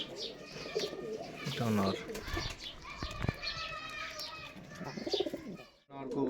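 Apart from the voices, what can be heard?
pigeons cooing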